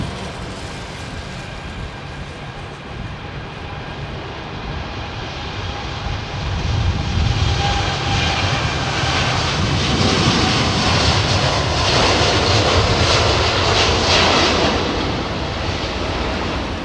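A Boeing Dreamliner airliner lands at London Heathrow Airport on a windy day. Its engines roar as a broad rumble that builds and stays loud and close for several seconds, with gusty wind noise underneath.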